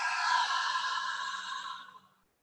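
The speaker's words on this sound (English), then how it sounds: "we're going to exhale out through our mouth, sticking our tongue out" A long, steady exhale pushed out through an open mouth with the tongue sticking out during a yoga breathing exercise, breathy and close, fading to silence after about two seconds.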